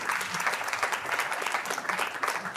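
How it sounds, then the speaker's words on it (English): Applause from an audience closing a talk by cryptography researchers, brisk continuous clapping at a steady moderate level with a few cheers mixed in. "Huge round of applause for Kit, Paul, and Ben"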